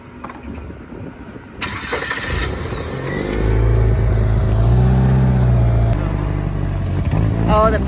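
A Mitsubishi Evo 8 engine cranks and fires into a steady, rumbling idle with a slight rev, close and loud, while people talk over it.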